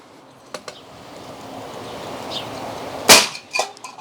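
A Crosman 2240 CO2 air pistol fires while plinking, one sharp, loud crack followed by a brief ringing impact, with a few fainter clicks before it over a quiet outdoor background.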